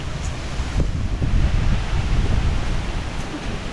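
Steady wind blowing across the microphone, a low rumbling rush with gusts swelling in the middle, no voices.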